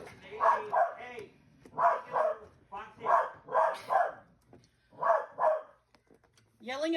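Dog barks in repeated bursts of two or three yips, loud and close, indoors, with short pauses between volleys and a higher whining bark at the end.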